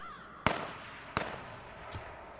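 Three sharp gunshots ring out in H1Z1 King of the Kill, fired at the player: two loud cracks spaced about 0.7 seconds apart, then a fainter third shot, with no one talking.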